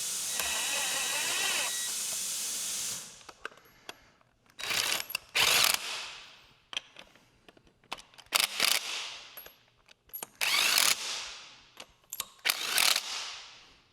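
Power tools fasten chunky alloy parts during a Barra engine swap. There is a run of steady whirring, then repeated short rattling bursts of a ratchety impact driver with pauses between them. The sound is close and no one talks.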